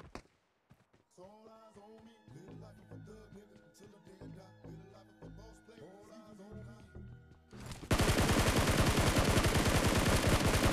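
Gunfire in the mobile battle-royale game BGMI: after a stretch of melodic in-game tones, a loud, sustained burst of rapid automatic fire erupts near the end and keeps hammering steadily.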